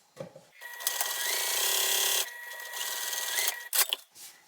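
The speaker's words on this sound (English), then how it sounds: "I'm just going to sew across the bottom" Sewing machine stitching across the bottom of a zip wallet's lining piece, a steady mechanical whir of the needle running in two bursts, starting and stopping, close and clear with no talking.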